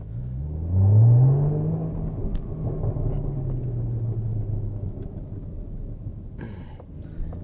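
A Porsche Boxster Spyder with an Akrapovic exhaust gives a deep rising roar, then burbles and rumbles on overrun as the revs fall, with a few faint pops near the end.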